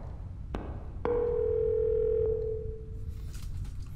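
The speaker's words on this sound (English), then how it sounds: "Pick up the phone!" A telephone rings in the horror video game Fatal Midnight: a couple of sharp clicks, then one steady, sustained electronic tone that fades out. There is no talking.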